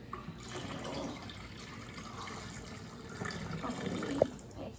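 Water poured into a pitcher while making lemonade, a steady, soft splashing stream running throughout with a brief brighter splash near the end.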